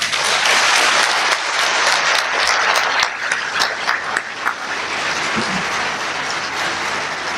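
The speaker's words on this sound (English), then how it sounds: "Let's give another big round of applause to all of our contest winners." A ceremony audience applauds at a school renaming event, dense clapping that is full at first then thins and settles into a steadier, lighter patter.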